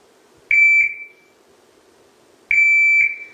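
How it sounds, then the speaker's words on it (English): A shot timer app on a phone gives two electronic beeps about two seconds apart, each a steady high tone holding roughly half a second, close and clear over a quiet room. "what happens is the timer gives me a delay. I don't know what that delay may be every time, and then it shoots."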